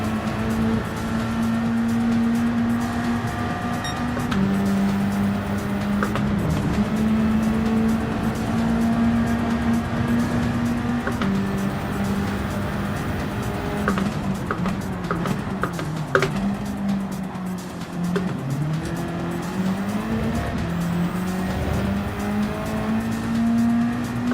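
A race car in a Group 4 championship racing game holds a loud, steady engine drone that rises and dips through gear changes and throttle, close and continuous, with no talk.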